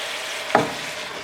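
Tomatoes drop into browned mince in a hot pan with a single brief splat-and-hiss, landing over a steady background sizzle of the frying meat.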